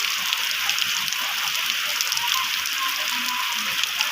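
A downpour in the village keeps up a constant, loud hiss of rain on roofs and ground, with scattered heavier drips and splashes rising out of the wash.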